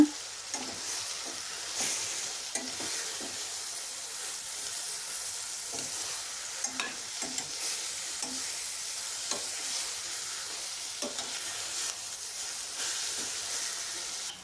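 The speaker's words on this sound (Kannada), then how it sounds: "ಹಾಗೆ ಪುದೀನ ಸೊಪ್ಪನ್ನು ಸೇರಿಸ್ಕೊತಾ ಇದ್ದೀನಿ ಕೊತ್ತಂಬರಿ ಸೊಪ್ಪನ್ನು ಸಹ ಸೇರಿಸ್ಕೊತಾ ಇದ್ದೀನಿ ಎಲ್ಲವನ್ನು ಚೆನ್ನಾಗಿ ಮಿಕ್ಸ್ ಮಾಡ್ಕೊಳ್ಳೋಣ" Soft steady sizzle of onion rice with mint and coriander leaves in a hot pan, punctuated by regular scraping taps of a spoon as it is stirred, quiet and close.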